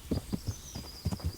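Horse hooves clip-clop in the medieval game Kingdom Come: Deliverance, a quick run of soft, muffled thuds in uneven rhythm, fairly close, with a faint high tone lingering behind.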